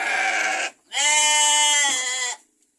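Two loud, close sheep bleats in a West Java village, the first short and the second long and wavering, with near silence between and after.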